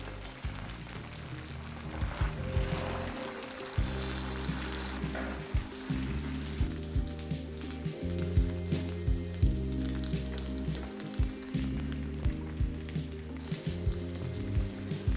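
A potato and flour snack fries in hot oil, giving a continuous bubbling sizzle close by with a low rumbling undertone and small regular pops and ticks, steady and moderately loud, no voices.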